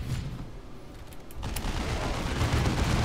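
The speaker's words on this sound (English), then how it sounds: "Our heavy bolters are deadly, but they take time to set up and have a limited field of fire." Heavy bolter fire from Space Marine Devastators in the Dawn of War II real-time strategy game: a dense, rumbling stream of gunfire that thickens and grows louder partway through, with no talk over it.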